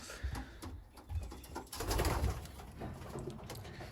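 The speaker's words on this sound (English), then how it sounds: "Looks like 16 birds on here at the moment." Pigeons coo softly in a loft, low murmuring calls overlapping in uneven bursts, with faint rustling and no talking.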